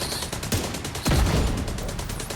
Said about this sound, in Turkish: Bomba yağdırıyorum ben.